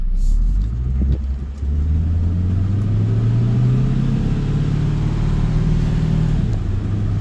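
A car on a test drive, running in sport mode with a transmission that shifts a little hard, accelerates steadily; a loud, continuous engine rumble rises in pitch as it builds speed, with a brief dip before climbing again.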